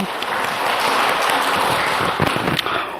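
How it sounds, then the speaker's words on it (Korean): A church congregation applauds during a Sunday service, a dense, loud wash of many hands clapping that holds steady for the whole stretch, with no voices standing out. "영광의 박수를 주님께 돌리십시다"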